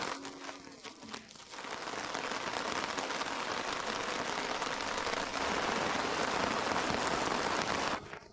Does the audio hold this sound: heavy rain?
yes